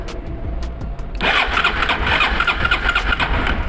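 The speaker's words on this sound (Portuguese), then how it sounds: "eu vou colocar o cabo positivo da bateria direto no motor de partida" Motorcycle starter motor cranking when powered straight from the battery with a metal conductor, a quiet buzz then a sudden loud whirring crank that runs steadily and close.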